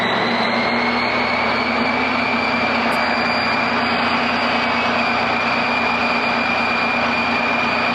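Pinewood derby car wheels spin at full speed during alignment tuning and break-in, a loud continuous high whine with a steady drone underneath, close and unbroken throughout.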